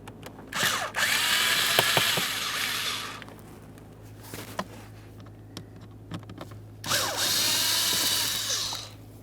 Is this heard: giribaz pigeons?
no